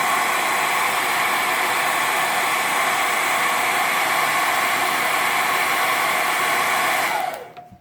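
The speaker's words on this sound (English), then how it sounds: "let me just do that with the hairdryer again" A hair dryer blows steadily and loudly at close range for several seconds, heating a vinyl wrap, then switches off and winds down.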